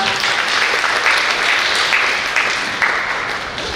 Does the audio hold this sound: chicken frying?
no